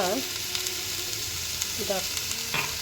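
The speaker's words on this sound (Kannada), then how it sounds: "ಗಸಗಸೆ ಹಾಕ್ಕೊತಾ ಇದ್ದೀನಿ. ನೋಡಿ ಈ ಥರ ಫ್ರೈ ಮಾಡ್ಕೋಬೇಕು." Poppy seeds fry in a hot pan with a steady, dense sizzle. A few brief stirring scrapes sit close up over the hiss, and no one speaks.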